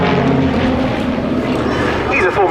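Propeller aircraft of a formation display team fly a loop at the Duxford Battle of Britain air show in 2021, a steady loud engine drone sustained throughout with a voice talking over it.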